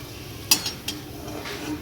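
Sago papad frying in hot oil for a Bengali home meal, giving a soft sizzling bed with a few sharp stirring clinks and spatters, close and moderately quiet, with no talk.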